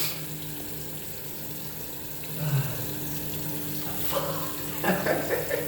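Tap water running into a sink to rinse out blood, a steady hiss with gurgles and splashes as something is moved under the stream.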